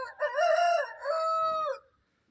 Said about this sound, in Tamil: இந்த கோழி நான் வெளியே எடுக்கிறப்பயே தான் கத்திக்கிட்டு இருக்குங்க